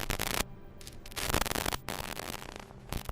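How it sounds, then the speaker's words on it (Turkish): Strange crackling radio static interference from radio measuring equipment, dense harsh noise in uneven bursts with short gaps. "ekipmanlarından gelen tuhaf bir parazit sesi duyuyorlardı"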